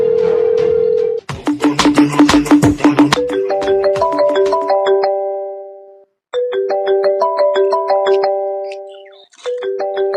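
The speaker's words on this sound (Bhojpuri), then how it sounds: "बाबू फोन करता है।" A mobile phone rings with an incoming call in a home, its loud electronic ringtone playing a stepped melodic phrase that repeats twice with short pauses, after a brief steady tone and some clattering.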